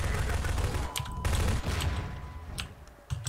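Submachine gun fire in the Half-Life 2 co-op mod Synergy, a dense rattling fusillade of rapid shots with a few sharper cracks and mechanical clicks, steady and fairly loud throughout.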